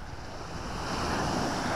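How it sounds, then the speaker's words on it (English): Gentle swell from a calm sea breaking onto the beach at Sutton on Sea, a continuous soft wash of surf with some wind buffeting the microphone and rising slightly in loudness. "Beautiful, calm sea. Little bit of a swell."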